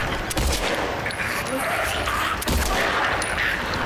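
Gunshots in the Silent Hill 2 Remake video game, with a few sharp, loud reports standing out against a noisy game background while a player talks over the action.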